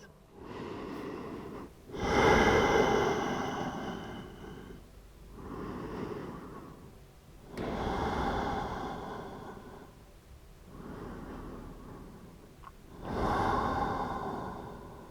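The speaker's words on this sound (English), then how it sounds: "Long, deep breaths." Slow, deep breaths at a yoga class while resting face down, several long inhale-exhale cycles with audible air rushing in a steady rhythm and quiet pauses between them.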